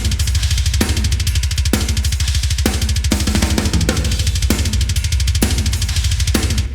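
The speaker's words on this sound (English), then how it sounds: "So I added some reverb to the drums." A steady drum beat with booming kicks and splashy cymbal hits, all bathed in thick, roomy reverb that leaves a dense, echoing wash between hits.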